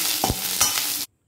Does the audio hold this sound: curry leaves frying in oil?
yes